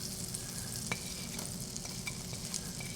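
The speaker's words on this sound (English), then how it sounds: "Into our hot pan goes a lump of butter and some of the garlic" A lump of butter and garlic sizzle in a hot pan for lobster mushroom pasta, a steady soft hiss with faint crackles throughout and no talking.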